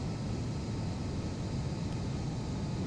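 Airplane engine at full throttle in the VR flight game SimplePlanes VR, a steady, even roar with no breaks or changes in pitch, heard alone.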